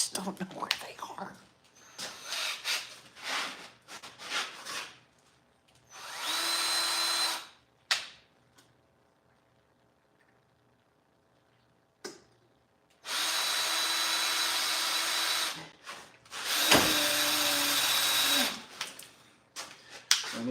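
A power drill runs in two sustained bursts of several seconds each during work on a tractor, with short pauses and brief tool clatter between them, and someone talks at the start.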